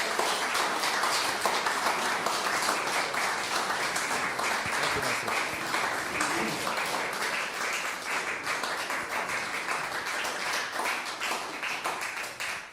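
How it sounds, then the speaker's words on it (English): Sustained audience applause for a tenor at a live recital in St Mary's church, Perivale: a dense, continuous clatter of many hands filling the room for over twelve seconds, easing slightly near the end. "Now let's have a big round of applause for Louis."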